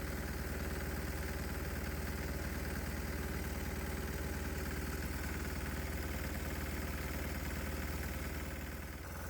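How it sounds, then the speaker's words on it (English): A diesel engine idles on straight diesel fuel with no HHO gas added, a steady close-up drone with constant low rumble and vibration, slightly easing near the end with no voices. "right now we're not feeding the engine any of the HHO gas, and the engine's just running on pure diesel"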